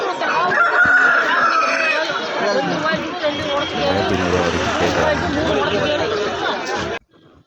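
A rooster crows at a poultry market among loud, continuous background chatter and clucking fowl, busy and close, ending abruptly.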